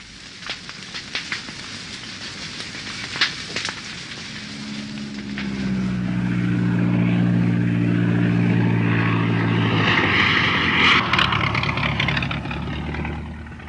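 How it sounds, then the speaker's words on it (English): A plane flying in over a jungle airstrip to bring men and supplies: a low engine drone builds and swells, with a steady hum lasting for several seconds before it thins out. "The plane flies in men and supplies"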